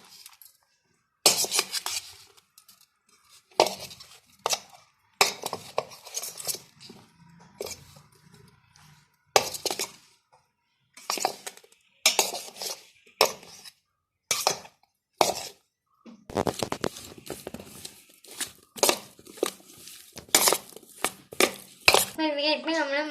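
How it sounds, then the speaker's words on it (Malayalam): Cauliflower florets tossed by hand or spoon with cornflour, chili powder, fennel powder and salt in a bowl, giving irregular bursts of clinking, scraping and rustling with short pauses between. "നന്നായിട്ട് മിക്സ് ചെയ്ത് കൊടുക്കാം."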